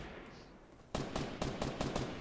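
Gunfire in the video game Fortnite: after a quiet second, a quick rhythmic string of about six loud, close shots fires in steady succession.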